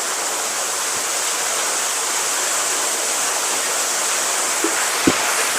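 Water flowing steadily from a pool inside Cavinti Cave, an underground river and cave complex, heard as a loud, continuous rushing wash with a couple of faint knocks near the end.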